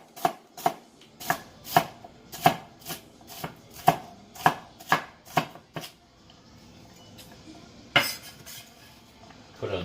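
A knife thinly slicing celery on a cutting board, about a dozen crisp, evenly spaced chops, then a pause and a couple more cuts, close and clear without talk.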